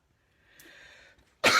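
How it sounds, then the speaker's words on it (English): After a soft faint hiss, a single sharp cough bursts out close by at the very end, loud and abrupt. "I've still got that cough."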